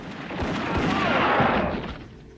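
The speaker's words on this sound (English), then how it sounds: "Them gunshots coming right, boy." Gunfire during a protest in Savannah where tear gas was used, heard as a dense, sustained burst of loud cracks and booms with an echoing roar that swells and fades over a couple of seconds.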